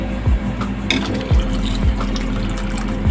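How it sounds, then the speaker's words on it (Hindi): A glass of water poured into a pot of chana dal on the stove, a steady close gush and sizzle with small clinks, no voices. "मिक्स करने के बाद मैं इसमें 1 गिलास ऐड करूँगी पानी"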